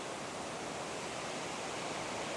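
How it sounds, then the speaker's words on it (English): Blue Hole Falls, a waterfall seen from a cliff top about 50 feet above, gives a steady, even broadband rush with no breaks, heard alone and fairly faint. "here's the waterfall right here. This is what they call Blue Hole Falls."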